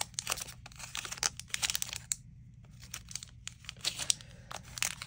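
A washi sticker book being handled, giving close, quiet crinkling and paper rustling in irregular bursts with a short lull partway through.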